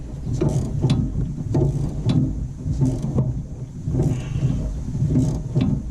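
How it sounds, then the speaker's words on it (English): A ratcheting 10mm wrench clicks in steady repeated bursts while turning a bolt on the upper control arm of a 2011-2014 Dodge Charger Pursuit, close and fairly loud over a low rumbling background. "you can hold it with a 10mm on the end, as long as it's a ratcheting one, and do what I'm doing"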